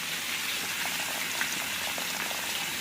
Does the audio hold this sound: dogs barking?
no